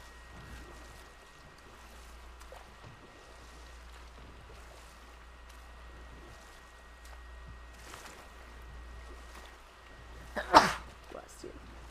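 A single sharp sneeze bursts out near the end, loud and close against a quiet background with a low steady hum, followed by a couple of faint trailing sounds.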